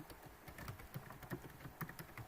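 Quiet, rapid keystrokes on a computer keyboard come in a steady uneven patter, close by and faint, with no talk.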